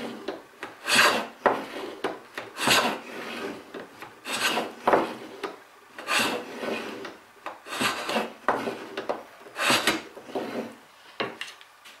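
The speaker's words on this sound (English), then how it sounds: "Lay my plane on its side and just take shavings by pressing against it and moving forward." A hand plane laid on its side takes shavings from a small wooden piece for a sliding lid, giving repeated rasping strokes in a steady back-and-forth rhythm, close and fairly loud with no talking.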